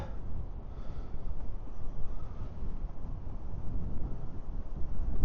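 Wind blows outdoors on a cold winter day in the mountains of East Tennessee, buffeting the microphone with a low, steady rumble that swells and dips in gusts the whole time.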